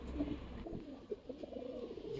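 Black Musoldom pigeons coo softly in short, repeated murmuring calls over a quiet background, faint and close.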